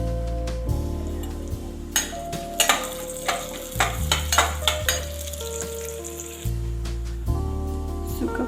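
Cashews, almonds and pistachios with cardamom powder are stirred in sizzling ghee for a steamed modak filling. A steady fry hiss runs under repeated spoon scrapes and clinks against the pan, with no voices.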